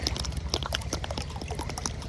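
Water pours into clay water pots set out for birds, a close, steady gurgling stream with small splashes, heard on its own.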